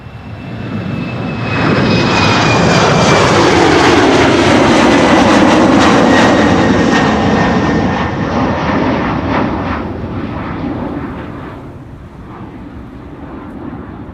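A KLM passenger jet taking off in windy weather from the Polderbaan runway 36L at Amsterdam Schiphol, a loud roaring rumble that swells, peaks and slowly fades as it climbs away, with wind noise and no talking.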